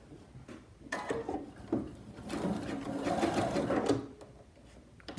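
A serger sewing machine stitches a fabric mask in a steady, rapid whirring run of several seconds, close and fairly loud, with brief starts and stops around it.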